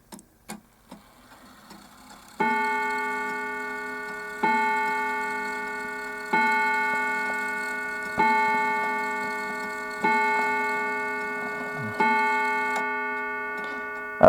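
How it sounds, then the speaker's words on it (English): A Junghans half-hour striking clock sounds six clear, resonant chime strikes at steady intervals of about two seconds, each ringing out and decaying, preceded by a few faint mechanical clicks, close and alone without talk. "Now I'm going to turn this one round and let you hear the strike."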